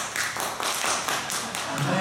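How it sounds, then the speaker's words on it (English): Theater audience at a live musical performance giving a light, polite golf clap, a soft continuous patter of many hands, even and subdued, with a voice speaking over it. "give me like a nice, light, polite golf clap"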